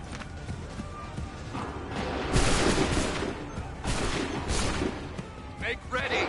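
Musket volleys in the video game Assassin's Creed 3: loud bursts of massed gunfire crack out around the middle and later parts, set over a busy battlefield din with shouting voices.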